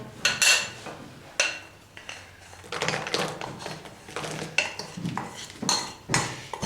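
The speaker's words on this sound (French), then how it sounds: "on le verse dans le saladier et on le mélange doucement" Beaten egg whites gently mixed in a bowl for a chocolate and walnut cake, soft irregular clinks and scrapes of a utensil against the bowl, close and quiet.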